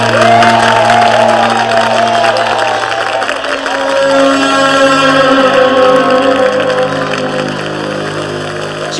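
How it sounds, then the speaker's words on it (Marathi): A theatre audience applauds through a Marathi stage drama, with steady, dense clapping and some cheering that runs the whole time alongside sustained tonal music. "वाजणाऱ्या या टाळ्या ऐकू येत आहेत ना?"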